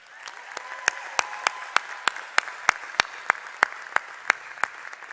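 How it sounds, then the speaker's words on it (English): Applause from graduates at a university commencement ceremony: a broad wash of hand claps, with loud, sharp individual claps standing out at a steady beat above the crowd's clapping throughout. "give a round of applause to those who helped them on this journey"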